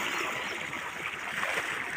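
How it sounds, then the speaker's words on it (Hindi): Water gushes steadily from a running tubewell on a farm field, a continuous near rushing and splashing flow with no voices. "ट्यूबवेल चल रहा"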